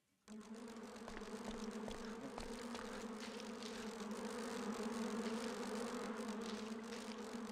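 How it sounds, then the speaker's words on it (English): A steady swarm of wasps buzzes continuously in Resident Evil Outbreak File 2, a droning hum starting abruptly and holding at an even, fairly close level with no voices. "Thank you, wasps."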